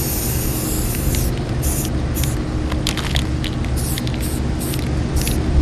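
Aerosol spray coating a craft item, applied in repeated short bursts of hissing over a steady low background hum, close and fairly loud.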